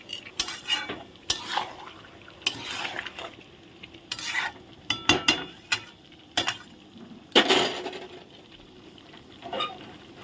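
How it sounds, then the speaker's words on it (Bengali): Ground spice paste stir-fried for chicken curry, with repeated scraping strokes of a spoon against the pan over a faint sizzle, close and irregular, with occasional metallic clinks. "এখন মশলা একসাথে কষানো হবে"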